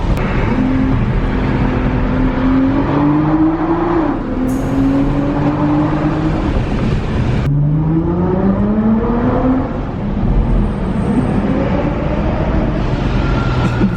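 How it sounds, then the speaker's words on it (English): A supercharged Nissan GT-R engine revs and accelerates hard in a street race, pitch climbing through repeated gear pulls, with a high supercharger whine riding over the roar. "This car's supercharged."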